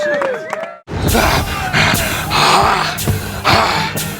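Audience applauding and cheering, loud and dense, rising in several surges after a brief silence, with yells and whoops over a steady wash of clapping.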